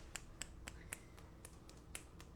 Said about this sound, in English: When I say clap the fingers, we're talking this.